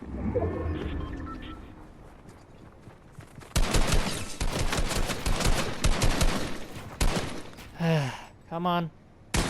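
Gunfire in the Fortnite video game: after a quieter start, a dense, loud burst of rapid automatic shots runs for several seconds, followed by more scattered shots, with someone talking and gasping around it.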